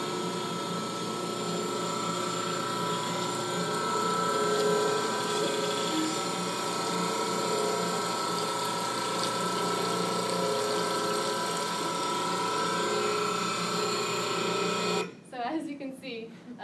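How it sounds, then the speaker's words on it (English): Commercial cold pressed juicer rated at about 35 gallons an hour, running with a steady mechanical pumping drone and whir that stops near the end, with people talking nearby. "That is our cold pressed juicer that we made the investment for as we grew last year."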